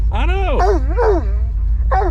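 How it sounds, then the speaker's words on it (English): A dog barks and whines at a truck in excited, rising and falling yips and bow-wows, close and loud, with a pause before a final bark. "He loves barking at this truck."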